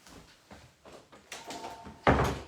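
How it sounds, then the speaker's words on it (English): An indoor room door is pushed shut, with a few soft handling knocks and shuffles first, then a firm close thud near the end. "let me shut the door"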